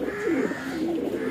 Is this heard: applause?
no